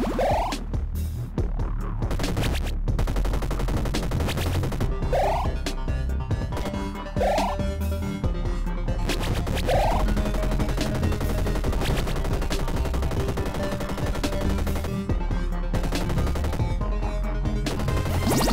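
Constant rapid shooting in the video game Collider, a dense stream of synthetic blaster shots over loud electronic music with occasional rising sweeps, loud and continuous throughout.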